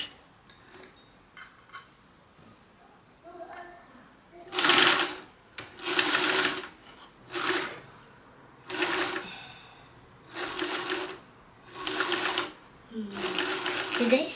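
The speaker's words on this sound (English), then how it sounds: "I'm going to sew mine together at 1/4 of an inch just because I'm using fur" A home sewing machine stitches fur fabric in a series of short bursts of whirring needle clatter, close and loud, with brief pauses between runs and some faint talk at the start.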